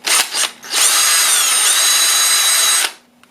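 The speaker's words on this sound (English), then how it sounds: "then we need to drill a hole in our cap" A power drill bores a hole through a cap for a homemade GMRS J-pole antenna, with a couple of brief spurts before a loud, steady whine of about two seconds that stops sharply.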